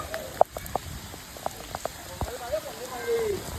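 Light rain patters steadily on a surface, with scattered drips and brief clicks, fairly quiet and close, a faint voice-like tone briefly in the background.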